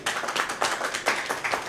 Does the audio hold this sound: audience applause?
yes